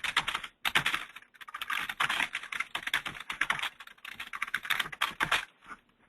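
Computer keyboard being typed on to write a message, a steady close stream of rapid key clicks with brief pauses, alone and without talk.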